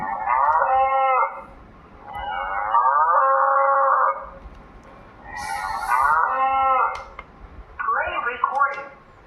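A handheld megaphone plays a looping ghost-scream siren effect, loud and close, in repeated wavering wails with brief gaps between bursts.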